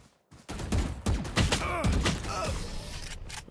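Gunfire in the video game Valorant: several sharp shots in a rapid burst, loud and close, with game effects between them and no talk over them.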